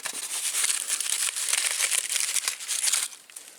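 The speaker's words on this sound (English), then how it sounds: "tear off the aluminum foil wherever is necessary" Aluminum foil crinkles and tears continuously as it is unwrapped from a sweet potato, a close, bright rustling that fades near the end.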